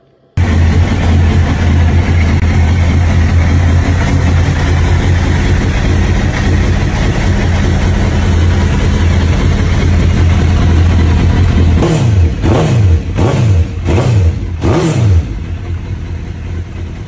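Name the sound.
sport motorcycle engine idling and revving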